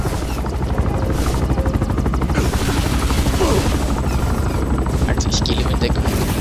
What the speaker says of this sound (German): Oh, ein Helikopter!